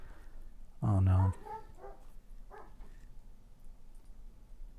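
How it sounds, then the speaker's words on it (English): A pet dog barks loudly at home, a short burst of close, sharp barks followed by fainter whimpering yips over low room noise. "I hear my dog barking very loudly"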